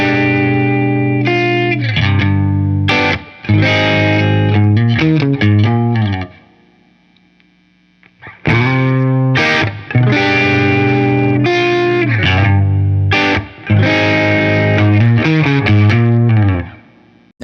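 A Fender American Professional II Telecaster plays with the pickup selector in the middle position and the push-push switch engaged, sending out loud distorted chords and riffs through a chorus-like effect, with two short pauses between phrases.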